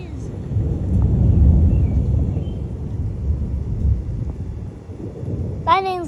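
Rain falls steadily through a thunderstorm, a dense broadband patter with a low rumble underneath that stays fairly loud throughout, and a brief tonal sweep near the end.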